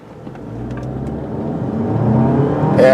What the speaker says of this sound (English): now the turbo's kicking in. Now we're really moving.